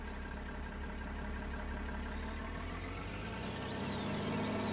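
A vehicle engine idles steadily in Farming Simulator 19, an even low mechanical hum that holds constant and swells slightly near the end, with a faint whine over it.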